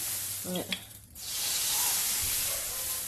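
Melted butter sizzles in a hot frying pan while making semolina crêpes, a brief clatter and short spoken sounds giving way to a loud, steady, close hiss that fills the rest.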